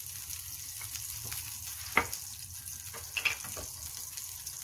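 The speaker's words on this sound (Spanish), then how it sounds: "Fundan su mantequilla hasta que esté súper hidratado su sartencito" Butter sizzles steadily in a small frying pan, a soft continuous crackle with a few brief clinks of a utensil against the pan.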